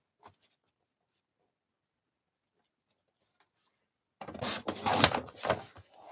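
Paper being trimmed for an art journal: close, dry cutting and rustling crackles in a short busy burst after a long near-silent stretch, with only a faint tick early on.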